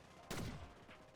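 A single faint, distant gunshot cracks in the Blitz Royale video game and fades quickly into a low background rumble.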